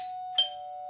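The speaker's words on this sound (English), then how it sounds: "the iPad makes a doorbell sound, opens up and tells the screen to display a doorbell page." An iPad in a C-Bus Wiser home automation setup plays a doorbell chime: a steady electronic tone with one brighter ding struck near the middle, clear and close, with no voices.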